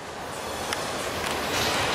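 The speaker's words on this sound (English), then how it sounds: "It's a train going by." A long train rolls past in the background beside a trout stream, a continuous, steady rumble and clatter of rail cars with faint metallic ticks, loud and unbroken for the whole stretch.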